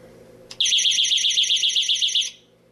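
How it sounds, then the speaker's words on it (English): A sharp click, then a loud, shrill 100-decibel vibration-triggered door alarm siren warbling in rapid pulses for under two seconds before it cuts off. "a 100 decibel siren will sound for 30 seconds"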